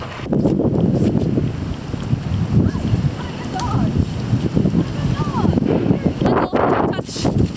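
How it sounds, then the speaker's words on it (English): Strong wind blowing outdoors during dog recall training, a loud continuous rumbling buffet across the microphone with a person talking over it. "It's super windy here."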